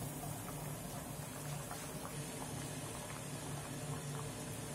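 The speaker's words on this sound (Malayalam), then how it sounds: "നമ്മുടെ മീൻകറി തിളച്ചിട്ടുണ്ട്." Fish curry with coconut milk, cooked village style, boils in a pot with a soft, continuous bubbling and simmering, faint and close, with no one talking.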